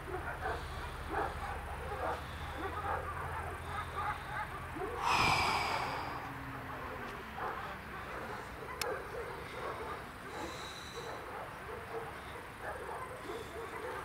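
Faint dogs barking and yelping in a brief scuffle at a distance, over steady outdoor street noise in Ivanovo, Russia.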